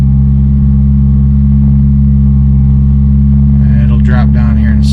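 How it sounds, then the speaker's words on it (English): A cold car engine idles high at about 2000 rpm in neutral, a loud steady drone with strong low harmonics throughout; some voices or higher noise enter near the end. "It's cold and revving at about 2 grand in neutral."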